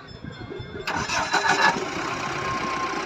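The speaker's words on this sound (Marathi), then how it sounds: "मित्रांनो गाडी चालू ठीक आहे." A vehicle engine, just repaired by a mechanic, cranks and catches at once, then settles into a steady, close idle rumble that fills the rest of the moment.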